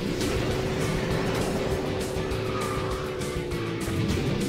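A kart drifts hard in the KartRider Rush mobile racing game, its tires squealing in a sustained screech over a steady engine drone, loud and continuous throughout.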